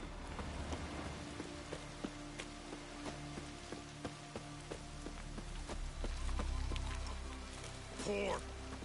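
Steady rain pours in The Witcher 3, a dense continuous patter with sharp drop ticks scattered through it, plus a low rumble and brief game noises near the end.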